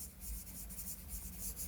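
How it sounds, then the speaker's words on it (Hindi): A web address is written out by hand in soft, faint scratching strokes that run continuously for under two seconds in a quiet room. "मैं लिख देता हूं"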